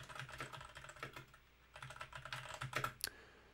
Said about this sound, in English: I'll just type in whatever the to-do is